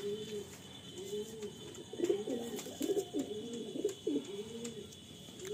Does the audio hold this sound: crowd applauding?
no